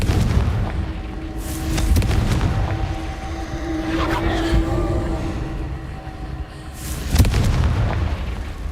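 Confringo blasting spells explode in the Hogwarts Legacy video game: about three sharp, loud booms with rumbling tails, spaced a few seconds apart over steady game ambience.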